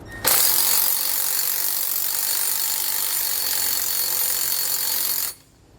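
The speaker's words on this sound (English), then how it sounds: "we'll come back with a 9/16 socket, and we're going to tighten up both of those flange nuts" A ratchet with a 9/16 socket runs in one continuous, fast, close clicking stretch of about five seconds as it tightens flange nuts on helper springs under a 2020 Winnebago, then stops abruptly, with no speech.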